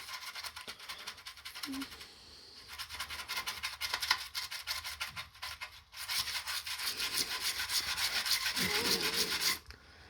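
A coin is rubbed with water to clean it, making close, repeated scratchy scrubbing strokes in bursts separated by short pauses.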